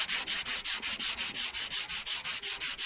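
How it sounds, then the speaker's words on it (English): Bondo body filler on the rusty roof of a 1976 El Camino is hand-sanded in quick, even back-and-forth strokes, a close, steady rasping rhythm of about five strokes per second with no talk. "Just keep putting a little bit of Bondo and keep sanding it till it's smooth."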